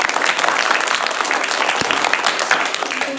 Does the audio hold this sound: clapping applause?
yes